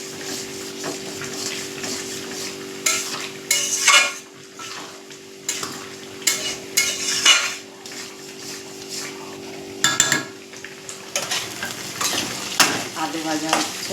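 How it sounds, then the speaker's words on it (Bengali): Large chunks of potato sizzle steadily in a pan in a home kitchen, with repeated scraping and stirring strokes of a utensil against the pan over a faint constant hum. "আলু ভাজা হচ্ছে"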